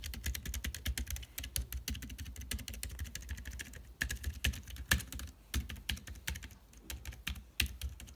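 Typing on a General Mobile e-tab4 Bluetooth keyboard heard up close, a fast, steady run of soft, light key clicks with brief pauses, fairly quiet and with no voices.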